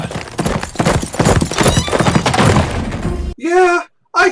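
A horse gallops and whinnies in a film scene, hooves pounding amid crashing and breaking noises, then a loud neigh near the end, with voices mixed into the scene.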